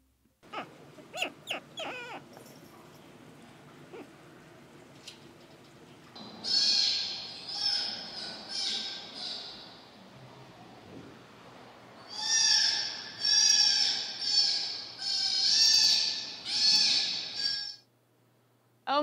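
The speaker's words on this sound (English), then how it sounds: "here are two clips, one of a young sea otter pup and one who's about a couple months old now" Young sea otter pups in a rehabilitation setting let out loud, piercing, high-pitched screams in two long sustained bouts separated by a quieter pause, with a few sharp clicks early on and no talking.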